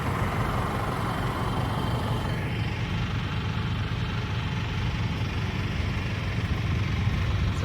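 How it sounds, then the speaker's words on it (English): Several tractors idle in a frosty farm yard while defrosting, a steady low engine rumble running continuously in the background with no clear talk. "you can hear some of the tractors running there in the background"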